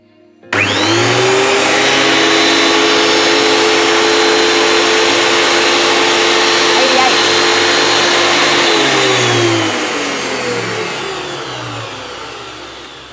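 A Sherwood helical head thicknesser starts with a sudden loud whine, runs at a steady high-pitched roar for several seconds, then winds down gradually as it coasts to a stop.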